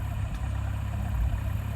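An idling old John Deere 2020 tractor gives a continuous low mechanical drone, steady and near, with a slight swell partway through and no voices over it.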